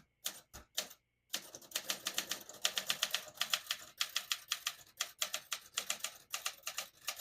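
Crisp mechanical typewriter keystrokes from a 1963 Olympia SM5 portable typewriter clatter in quick irregular bursts, close and clear, after a few isolated strikes and a brief pause.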